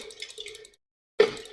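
Rain dripping in a video game survival setting: a run of soft water drips and patters, then a pause of silence, then a sharper splash-like drip burst, close and moderately quiet.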